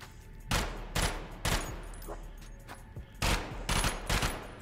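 Gunfire in the video game Sulfur, several loud close shots in short bursts with pauses between them and faint background sound.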